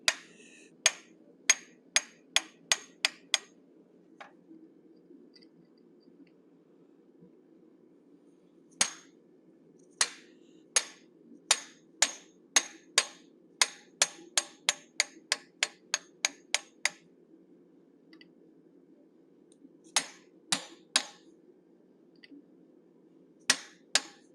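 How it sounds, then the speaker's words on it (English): A smith hammers a diamond-shaped eye punch into hot forged metal to shape an animal head's eye: sharp, ringing metallic strikes fall in quick bursts and rhythmic runs, separated by short pauses, close and loud. "I'm using a diamond shaped eye punch, placing it into the sockets we created with our teardrop shaped bob punch"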